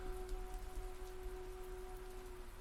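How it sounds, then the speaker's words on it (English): Steady rain falling on stone, played as an ambient sound effect: a continuous, even hiss of drops with a faint low rumble and a thin steady tone, no thunder and no voices. "No thunder. Just rain on stone."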